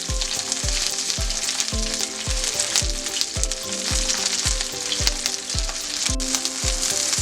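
Chicken pieces for honey glazed chicken fry in a pan with a steady, bright sizzle throughout, punctuated by a regular run of low thuds and scrapes from turning or stirring; no voices.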